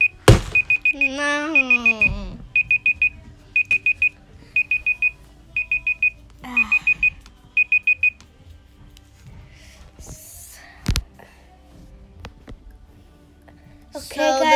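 A countdown timer alarm in the Minecraft video game beeps in quick, loud bursts of rapid tones, repeating in groups for several seconds before stopping, with voices talking around it.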